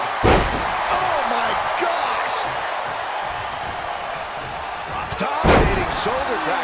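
Loud, sharp impacts of a shoulder tackle and slam in a wrestling ring at a live WWE event, two heavy hits over a continuous roaring crowd.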